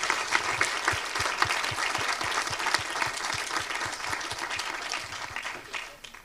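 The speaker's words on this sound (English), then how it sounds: "let us just give another round of applause to the whole panel," An audience at a university town hall event gives the panel a round of applause, with full, steady clapping from many hands that holds evenly and then fades out at the end.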